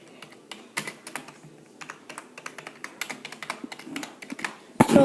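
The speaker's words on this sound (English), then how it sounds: "you're gonna hear me typing in it" Rapid keystrokes clatter on a Blackweb LED computer keyboard, an irregular run of close, crisp clicks with brief pauses and a louder burst near the end.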